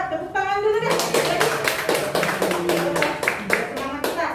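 Participants in a health-cadre training session clap their hands together after a short spoken line, giving a lively, slightly uneven burst of group clapping that carries on steadily, close and fairly loud.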